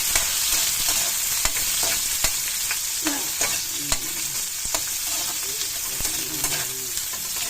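Tomatoes fry in a pan while a utensil stirs them, a steady loud sizzle broken by scraping strokes and sharp clicks against the pan at irregular intervals, with no talk.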